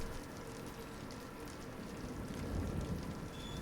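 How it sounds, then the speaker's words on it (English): Rain falls indoors in the horror video game Visage, a soft, steady patter of drops with a low rumbling underneath, quiet and continuous with no voices. "It's not good if it's raining indoors."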